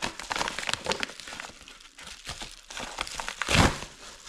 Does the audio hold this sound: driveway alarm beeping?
no